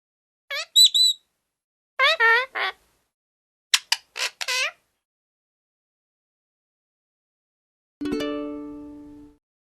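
Parrot calling in several short, sharp, high-pitched squawks and chirps grouped in bursts over a silent background, followed by a separate tonal sound at the end.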